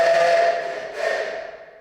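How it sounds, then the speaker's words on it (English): A mechanically played auto horn sound effect in a studio full of silent-film effects gives one sustained, loud, reedy honk that wavers slightly in pitch, then fades as it trails off. "auto horn"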